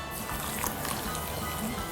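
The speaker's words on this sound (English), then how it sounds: "Then we just need to mix our poppy seed with hot water" Poppy seed stirred into hot water, giving a soft wet liquid swishing and trickling that stays steady and close for the whole stretch, with a faint hiss of water underneath.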